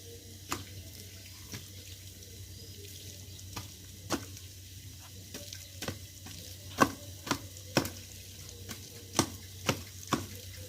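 Knife chopping through raw jackfruit in a village kitchen, a series of sharp, close cuts and thuds arriving irregularly, then faster toward the end, over a low steady background hum.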